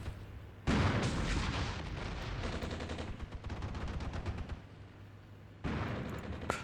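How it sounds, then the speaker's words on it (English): Infantry firing LAW rockets in Armored Brigade II amid a Cold War NATO defense of West Germany, heavy sustained gunfire and launcher blasts forming a loud continuous barrage that starts abruptly, eases, then bursts up again. "They are getting out some shots with the laws, but it's a tough fight"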